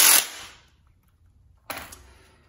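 Impact wrench tightening the rear brake caliper bolts on a Suzuki SV650 motorcycle fitted with a GSX-R rear wheel: two short, loud air-tool bursts, the first at the very start and a second about a second and a half later, with quiet between.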